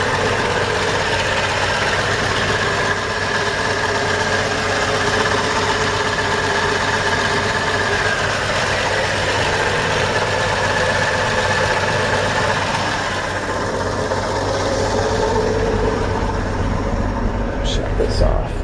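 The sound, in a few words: old pickup truck engine idling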